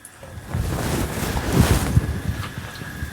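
Food frying in oil in a pan on a home stove: a close, steady crackling sizzle that swells and spits throughout, with no voices over it.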